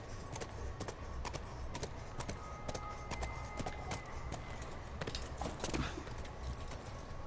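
Horse hooves clip-clop steadily in The Last of Us, walking at a moderate pace close by, with sharp repeated knocks over a low ambient rumble and no talking.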